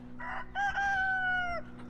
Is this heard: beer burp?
no